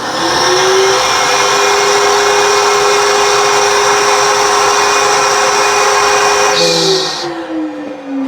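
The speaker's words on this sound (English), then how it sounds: "I'm going to hit the button and you're going to hear a vacuum sound." A balloon stuffing machine runs with a loud, steady vacuum whir and a sustained mechanical tone for about seven seconds, then winds down abruptly near the end.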